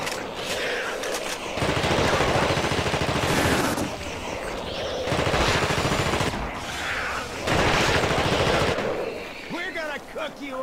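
Sustained bursts of automatic gunfire from the PC video game The Thing, loud, dense rattling volleys of several seconds each separated by short lulls, with a voice speaking faintly beneath.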